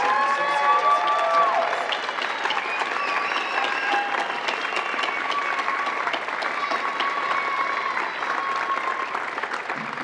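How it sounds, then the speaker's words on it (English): Audience at a UNMLA graduation ceremony applauding the graduates, a loud, sustained round of clapping with scattered cheers lasting about ten seconds. "Let's have a final round of applause for these graduates."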